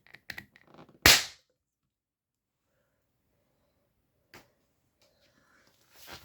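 A single sharp, loud firecracker bang rings out and quickly fades, followed by long silence, a faint click, and a few soft rustles near the end.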